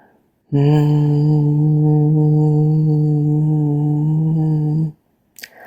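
A voice hums one steady, sustained note for about four seconds, imitating a bee's buzz, then stops.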